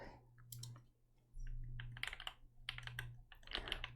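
Computer keyboard typing for ASMR, a run of soft clustered key clicks in uneven bursts, close and alone with a low steady hum underneath.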